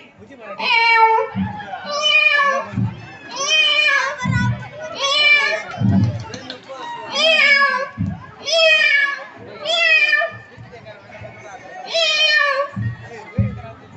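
A voice imitates a female cat crying, with repeated wavering meow-like wails in close succession, loud and near, amid a festive Pongal celebration setting.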